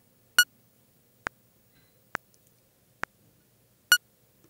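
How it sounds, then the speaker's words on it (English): Five short, sharp electronic metronome click-track beeps from PreSonus Studio One at a steady, even pace over near silence. "Let's change that to a beep and take a listen."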